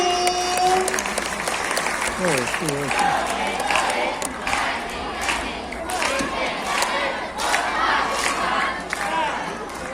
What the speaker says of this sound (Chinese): 掌声来欢迎活动组，掌声欢迎